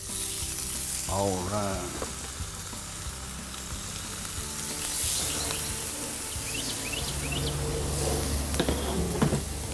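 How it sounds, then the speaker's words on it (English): Steady crackling sizzle of Cajun-seasoned catfish frying on a hot Blackstone griddle, continuous and close, with a brief spoken word and some clinking over it. "Oh boy, listen to the sizzle."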